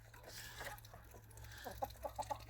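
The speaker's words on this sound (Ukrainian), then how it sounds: "наша сімейка із трьох курочок і одного півника" Crested white hens and a rooster cluck softly at a distance, a few short clucks coming close together toward the end over a low steady hum.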